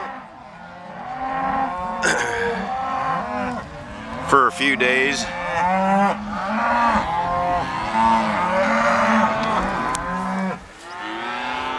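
Beef cows bellow repeatedly after being parted from their calves in a corral, loud overlapping moos rising and falling for the whole stretch, with a brief spoken phrase near the end.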